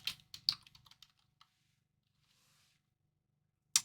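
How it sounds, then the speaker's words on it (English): Typing on a computer keyboard gives a quick run of close, soft key clicks that thins out into silence, with one more click at the end. "we're going to type in our clients"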